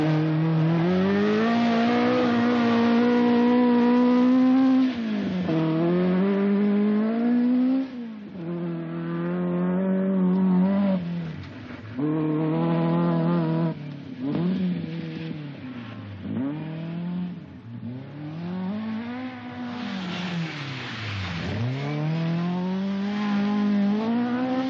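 A 1979 rally car driven flat out by Greg Carr on an Australian rally stage, engine screaming through repeated upshifts and high revs, each gear rising in pitch before dropping, loud and close with brief dips as the throttle snaps back.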